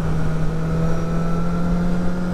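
A BMW S1000R Sport motorcycle engine drones loud and steady, holding an even, close pitch under rushing wind noise throughout.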